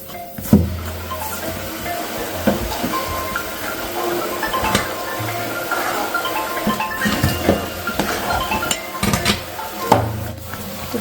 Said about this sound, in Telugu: ఒకసారి బాగా కలిపి